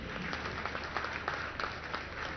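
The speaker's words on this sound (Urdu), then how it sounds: "کمزور تالیاں ذرا زور والی ہونی چاہیے" Audience applause at an inaugural ceremony in Karachi, a steady mid-level patter of many hands with a few sharper claps rising out of it, continuous throughout and without talk.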